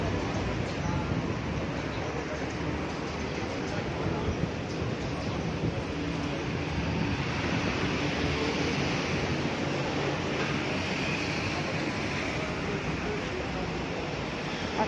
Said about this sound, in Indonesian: Wah, hujan angin lebat juga ya.